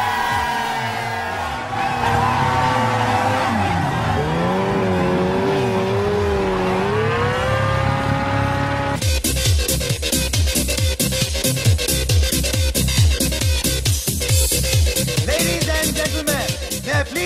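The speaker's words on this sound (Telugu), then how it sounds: "రెడ్ బైక్ మీద పారిపోయాడు. అది కూడా ఇంపోర్టెడ్ రేసింగ్ బైక్." An imported red racing bike speeds away, its engine revving in rising and falling sweeps before bursting into loud, rapid, rough acceleration that fills the rest of the clip.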